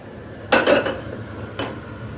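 A metal kadhai (Indian wok) is handled in a home kitchen, giving two clattering bursts of pan-on-stovetop clanks, a busy cluster near and then a single short knock about a second later, with no talking.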